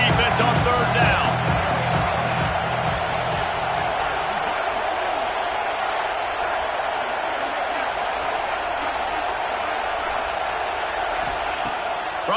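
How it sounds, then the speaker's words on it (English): A football stadium crowd roaring behind the defense on a 3rd down play: a loud, sustained, dense wash of cheering that holds steady throughout, with a voice briefly heard near the start. "Decibels rising as the crowd gets behind this defense on 3rd down."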